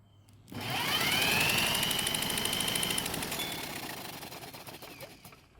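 A cordless drill spins over the engine of a Toro lawn mower, starting abruptly with a sharp whirring rise and holding a loud, steady mechanical buzz for several seconds before slowly easing off, with no talking over it.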